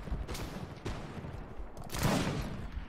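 Gunfire in the Mount & Blade: Fire and Sword video game, a few sharp musket-style shots spaced over a few seconds with a heavier blast near the end, amid game background noise.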